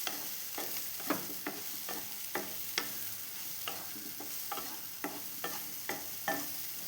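Banana being stirred and sautéed in a pan, a constant close sizzle broken by regular scraping strokes of the spoon roughly every half second.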